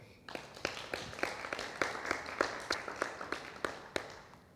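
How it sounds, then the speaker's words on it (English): An audience at an evening talk claps in a steady, even rhythm of sharp, fairly quiet beats that keeps going for several seconds without a break. "Please, let's clap for them."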